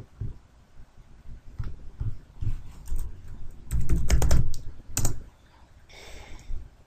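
Someone types in bursts on an Atari computer keyboard while editing in FIG-FORTH. Close, crisp key clicks come in uneven runs, with one dense flurry near the middle and short pauses between the bursts.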